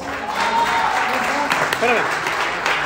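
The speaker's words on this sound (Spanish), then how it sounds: "Le damos el aplauso a Eduardo Núñez." An audience at a recital claps steadily, the sound moderately loud and continuous, with voices talking over and through the applause.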